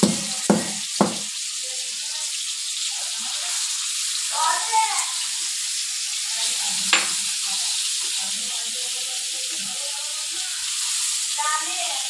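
Food pieces laid on a hot tava griddle fry with a constant, close hissing sizzle, broken by a few sharp clinks and scraping stirs, while faint voices murmur in the background.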